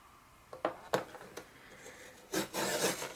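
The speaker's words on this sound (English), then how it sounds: "We're gonna get our our trimmer, and we're gonna trim this at 3/4 inch" Paper trimmer scoring cardstock, a few short scraping strokes followed by a longer sliding rasp near the end, close and fairly quiet with no talk.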